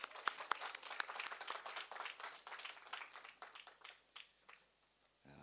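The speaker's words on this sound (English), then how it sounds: "with a warm round of applause." Audience at an education forum clapping, scattered hand claps from a small group that build briefly and then thin out, fairly faint and with no talk over them.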